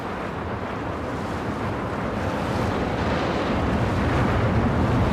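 Water splashing and rushing in the theme-park game Planet Coaster 2, a steady, dense wash of noise that holds at an even, fairly loud level for the full stretch, with no voices over it.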